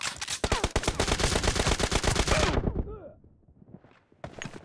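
Rapid automatic gunfire from a PUBG Mobile Domination match rattles in a dense burst of about two and a half seconds, followed by a short whooshing tail and quieter game effects, with a voice speaking over the action.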